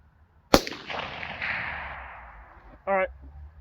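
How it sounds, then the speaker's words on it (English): A single sharp crack from a Marlin 783 rifle, close and loud, followed by a long rolling echo that fades over a couple of seconds; a brief spoken remark follows. "Let me shoot one more."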